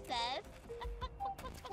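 A cartoonish chicken clucks in the video game Amanda The Adventurer: a short, bright warbling cluck near the start, followed by a child-like voice speaking.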